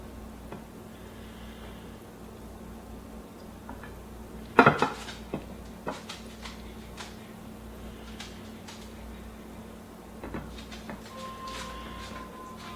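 A hot cake pan and a plate clatter together while flipping a fudge cake, one loud metallic-ceramic clank followed by a few lighter knocks, then mostly quiet room tone.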